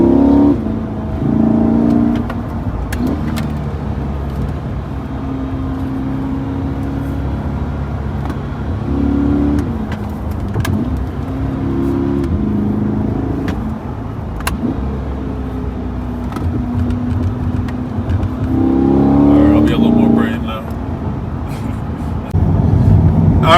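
A 2020 Chevrolet Corvette C8 on back roads, its engine rising and falling through repeated acceleration pulls, loud and close, with a strong surge near the end.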